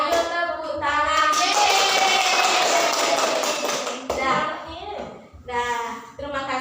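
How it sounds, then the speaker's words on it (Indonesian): Children in an elementary school civics lesson clap their hands together in a loud burst, with a teacher's voice and kids' singing or speech running over and between the claps. "Ayo tepuk tangan."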